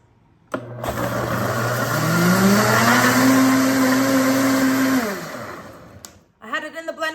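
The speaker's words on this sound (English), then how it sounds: "place it in the blender, mix it for about 20 seconds" A blender mixing pistachio popsicle mixture whirs loudly and steadily for several seconds, its motor pitch climbing as it runs, then winds down and stops; a voice follows.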